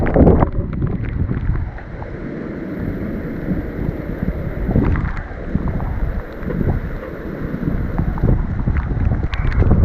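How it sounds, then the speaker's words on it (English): Heavy storm-front wind gusting up to 40–50 mph roars and buffets continuously, rising and falling in gusts, with rough rumbling noise throughout and no voices, in the Deep South of Alabama. "That wind's gusting up 40,"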